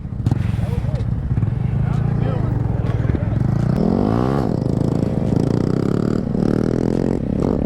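A Honda Grom motorcycle engine runs close and loud with rough, rising and falling revs while the rider eases off the throttle. Wind roar and scraping come through, and people talk over it.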